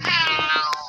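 A single cat meows once, close and fairly loud, a drawn-out harmonic cry lasting under a second, heard at a racing pigeon loft.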